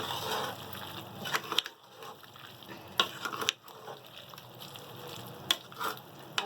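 Spices and ingredients for Karachi-style chana biryani being mixed in a pot, with wet stirring and shuffling punctuated by several sharp knocks of a spoon against the vessel, moderately close and without speech.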